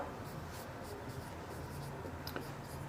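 Pen or marker scratches across a board during a commerce maths lesson, a faint steady scratching with soft strokes throughout, recorded close in a quiet room.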